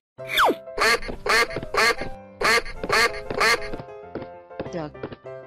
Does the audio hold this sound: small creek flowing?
no